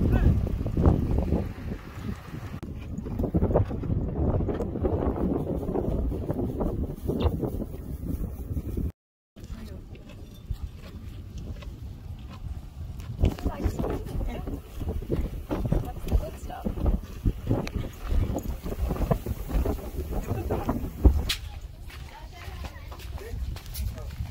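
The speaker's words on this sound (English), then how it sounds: "It is windy, but it's beautiful." Strong gusty desert wind buffets the microphone in loud, rumbling bursts throughout, with a brief dropout partway, and faint voices occasionally under the noise.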